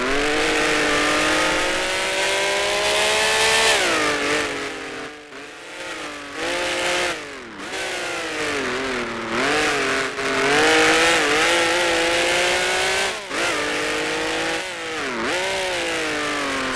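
Alfa Romeo T33 race car engine in Grand Prix Legends with the 1971 World Sportscars mod: a loud, continuous engine note revving up and down through repeated gear changes, with brief dips on lifts and shifts.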